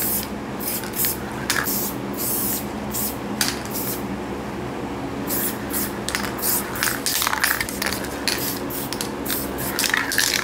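Spray paint hisses onto a surface in short, repeated bursts, some quick and some longer, close and fairly loud over a low background hum.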